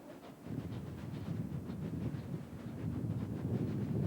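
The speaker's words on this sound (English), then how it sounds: "That's the switch engine." A switch engine locomotive rumbles steadily with rhythmic clanking and low engine drone, growing slightly louder as it continues; no voices.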